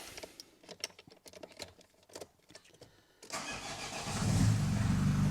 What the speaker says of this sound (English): Let's start the engine again.